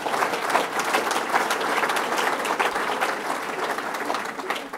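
Steady audience applause after a bass fishing event, dense clapping filling the room at an even level for several seconds, with no voices rising above it.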